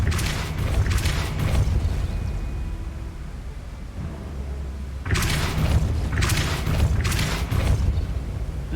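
Spell blasts from the Depulso force-push charm in the game Hogwarts Legacy, several loud booming bursts in two clusters separated by a quieter rumbling stretch.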